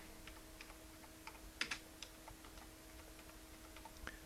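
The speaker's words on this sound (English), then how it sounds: "I can type in those codes" Codes being typed on a computer keyboard, a quiet run of light, irregular key taps with a couple of sharper clicks, close by over faint background hum and no voices.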